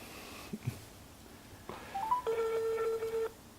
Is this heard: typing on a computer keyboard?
no